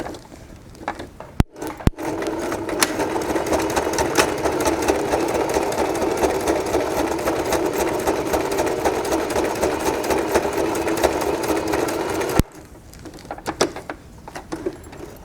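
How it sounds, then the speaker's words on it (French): A sewing machine runs steadily for about ten seconds, stitching back and forth over the elastic on a homemade fabric face mask, with short clicks before and after the continuous whirring run; close and clear, no talk. "vous passez plusieurs fois au niveau de l'élastique pour donner un peu plus de résistance à la couture"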